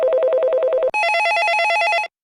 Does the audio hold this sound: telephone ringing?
yes